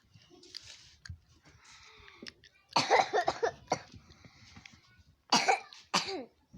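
Person coughing, with several loud, close, harsh bursts: a couple of fainter coughs early on, then strong clustered coughs around the middle and another pair near the end, separated by quiet gaps.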